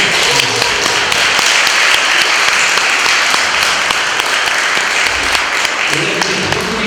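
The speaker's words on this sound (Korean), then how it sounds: "그래서 지금 서정욱 집사님 지금 저기 서 계시는데 잠깐 좀 박수로" A church congregation applauds during a Sunday worship service, steady broadband clapping filling the room throughout, with some talk mixed in underneath.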